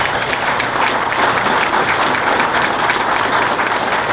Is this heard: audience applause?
yes